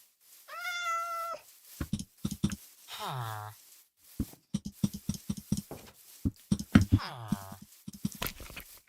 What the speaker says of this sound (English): And there's a cat, so...